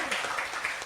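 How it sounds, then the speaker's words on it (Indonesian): A brief burst of audience applause for Siki at the opening of Ndalem Kulit Jogja, steady and moderately loud, with a hint of voices underneath. "Tepuk tangan buat Siki boleh ya Bapak Ibu."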